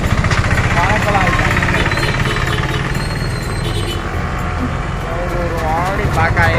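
Road traffic rumbles steadily close by, with engines idling and revving, low mechanical knocking and passing vehicles forming a loud, continuous wash of noise.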